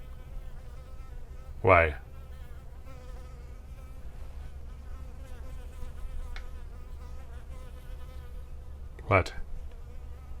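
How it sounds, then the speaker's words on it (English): A bee buzzes close by outdoors in a faint, steady drone, with two brief louder passes as it flies near; a person speaks a few words. "You're a bee. You're not a mosquito."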